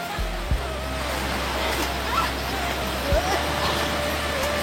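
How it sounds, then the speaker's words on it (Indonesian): Putri Bungsu waterfall, first tier, in Kerinci: a steady broad rush of falling water heard at some distance, with faint low thumps and voices murmuring beneath the constant roar. "Ini air terjun yang tingkat pertama."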